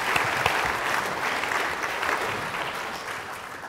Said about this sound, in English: Round of applause again for this lot.